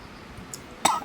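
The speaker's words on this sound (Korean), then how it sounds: "기침 나오네" A single short, sharp cough bursts out near the mic, preceded by a faint breathy rasp in a quiet room.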